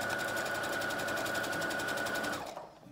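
A sewing machine stitches a cloth face mask, running fast with a rapid, even mechanical whir and needle rhythm, then slowing and stopping just before the end.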